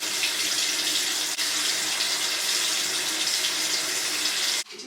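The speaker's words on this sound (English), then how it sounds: "I'm gonna wash my face now" A bathroom tap runs steadily while someone washes their face, a loud, close, continuous hiss of flowing water with a brief interruption near the end.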